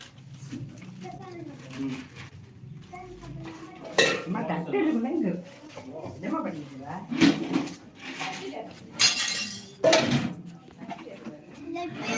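Plates and dishes clatter, along with cutlery clinks, as food is served at a Saturday annadhanam food offering, with people and children talking throughout.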